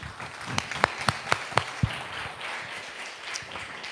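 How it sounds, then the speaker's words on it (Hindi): Congregation clapping after a Christian prayer: a handful of distinct, spaced claps ring out near the start, then soften into a lighter, diffuse patter of hands over a hum of room noise. "अब बजा सकते हैं ताली"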